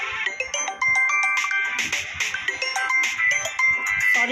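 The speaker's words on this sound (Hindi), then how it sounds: "सॉरी, फ़ोन आ रहा है किसी का।" A phone rings with an incoming call, its bright electronic tune of quick chiming notes playing continuously and fairly loud with no voices over it.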